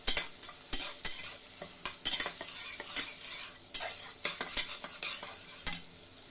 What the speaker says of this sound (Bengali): এবারে ভালো করে পেঁয়াজটা ভেজে নিতে হবে